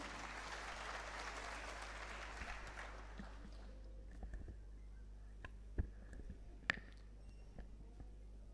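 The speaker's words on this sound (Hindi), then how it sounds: "जोरदार तालियों के साथ उनको आमंत्रण दें" Applause from a crowd at a live public gathering in Jaipur that fades out after about three seconds, followed by quiet room noise with a few scattered knocks.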